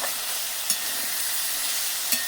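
Okra frying in a pan with mustard-poppy paste being stirred in, a steady close sizzle with a couple of brief scraping stirs, no talk.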